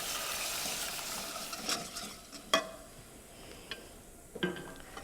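White sauce of butter, flour and hot milk thickening over low heat for macaroni and cheese, a faint quiet bubbling with a few light clinks and scrapes of a utensil stirring, no voices.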